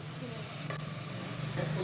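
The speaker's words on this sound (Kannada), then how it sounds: "ಎಣ್ಣೆನಲ್ಲೇ ಫ್ರೈ ಮಾಡ್ಕೊಬೇಕು." Mutton and onions fry in oil in a pan, with a steady low sizzle and hiss and a few stirring scrapes, with no talk.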